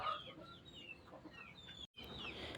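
Native desi chickens cluck and chatter nearby in a busy overlapping flock, steady throughout with a brief dropout near the end.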